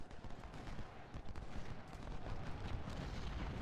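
Artillery and massed gunfire from the Civil War battle game Ultimate General: Civil War, a dense, continuous rumble of booms and crackling volleys with no clear gaps, loud and sustained throughout.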